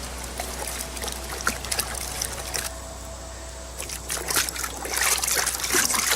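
Cold water runs and trickles while rinsing a rabbit hide tanned with salt and alum. The splashing flow is close and continuous and grows louder toward the end, with no talking.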